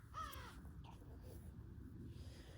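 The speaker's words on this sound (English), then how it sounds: "I'm getting mad at crows" Crows cawing in short harsh calls, a couple of brief caws early on, heard at moderate distance over a steady low background rumble.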